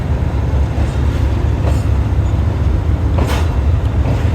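A Pakistan Railways diesel locomotive train rumbles steadily nearby, a dense low engine drone with faint wheel clatter and a few sharp metallic clicks, loud and unbroken throughout.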